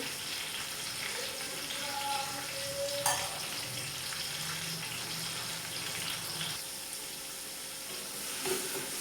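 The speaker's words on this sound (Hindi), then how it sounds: "टमाटर को सॉफ्ट होने तक पकाएंगे।" Tomatoes cook down in a hot pan until soft, giving a steady close sizzle and crackle throughout, with a brief clink or stir near the start and near the end.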